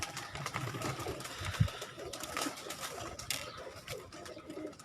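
Pigeons in a rooftop breeder setup coo softly and repeatedly, a low murmur of calls mixed with wing rustles and a faint mechanical hum in the background.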